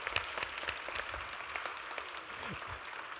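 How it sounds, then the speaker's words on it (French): Audience applause at an annual entrepreneur event, a soft, steady patter of many hands clapping from a distance, fairly faint and continuous throughout. "Je veux vous entendre applaudir pour motiver les prochains."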